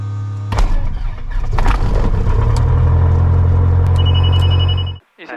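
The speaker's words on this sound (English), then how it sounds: "Propeller area free and ignition." A light aircraft propeller engine cranks and catches, bursting into a loud, steady rumbling idle that holds for several seconds before cutting off abruptly, with a few faint clicks over the running engine.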